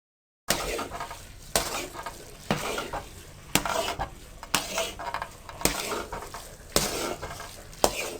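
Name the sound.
spoon stirring semolina milk halwa while roasting in pan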